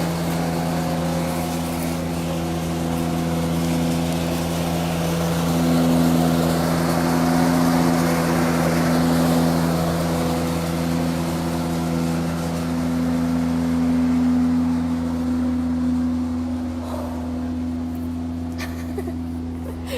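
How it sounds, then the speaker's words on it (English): A steady motor drones continuously for the whole stretch, a constant mechanical hum with slight swells in loudness, like a lawn mower running nearby. "We're getting white lawnmower noise."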